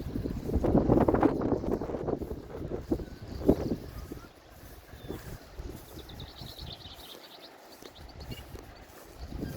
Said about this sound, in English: it is hard to do investigation out in the wind